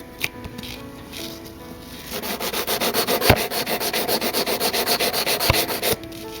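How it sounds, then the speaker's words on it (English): A nail file rubs back and forth across fingernails during an at-home manicure, a close, steady rhythmic scratching of repeated strokes that quickens and holds an even pace. "You definitely want to make sure you file the sides"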